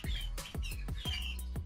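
A red canary chirps in quick, bright bursts, close and fairly clear, with a rapid series of short tweets and trills and no voices.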